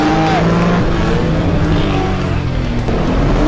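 A modified race car engine runs loudly and steadily in a show run at a street car festival in Songkhla, with a droning, humming tone close by.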